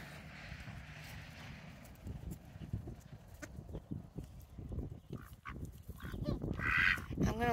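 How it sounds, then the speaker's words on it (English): Ducks eat a tuna snack close by, making quiet irregular pecking and dabbling taps with a few honk-like calls near the end, all at a low level. "Yeah, the ducks really love the tuna."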